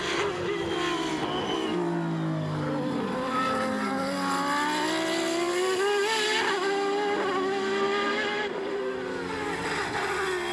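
A 1994 Tyrrell Formula One car, run privately at the Irish Super Prix, screams past with a continuous high-pitched engine note whose pitch sweeps up and down through gear changes, loud and close throughout.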